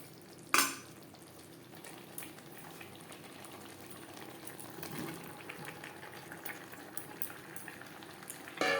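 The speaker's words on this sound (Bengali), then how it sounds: "দিয়ে দেবো ভেজে রাখা সবজি" Fried vegetables are stirred into a yogurt spice masala, giving a soft bubbling and simmering sound, quiet and close, with a sharp clink of a utensil early on and light scraping later.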